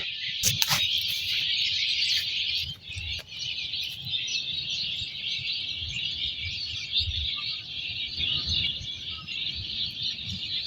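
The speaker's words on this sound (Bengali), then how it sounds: "পাখির শব্দ তো শুনতে পারতেছেন, কত সুন্দর এন্ড কত মনোমুগ্ধ করা লাগতেছে ব্যাপারটা।" Birds chirp and tweet steadily outdoors at a winter campsite, with a dense chorus of calls over a quiet low background rumble.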